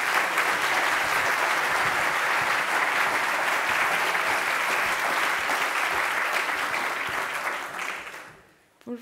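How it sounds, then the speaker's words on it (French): A tech meetup audience gives loud, dense applause to welcome a presenter, a sustained roar of many hands that fades out near the end. "je vous demande d'accueillir avec de forts applaudissements Laurine Lenette de la société Takima"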